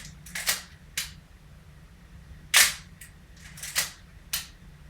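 Sharp mechanical clicks of a camera shutter, several spaced irregularly, with a longer ratcheting burst like a film advance, over a faint background hum.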